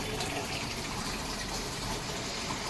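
Strong, continuous rush of water running from a tap, steady and close, with no other sounds.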